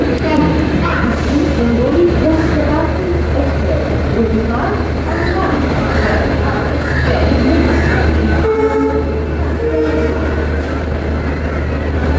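Inside the Mumbai CSMT–Dhule Express hauled by a diesel locomotive, a steady rumble and rattle of the rolling train carries on throughout, with a low diesel drone beneath and people talking over it.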